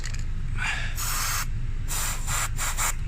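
Several short bursts of clear PTFE grease spray hiss close by on Honda Civic Type-R hinges, separated by brief pauses, over a steady low rumble.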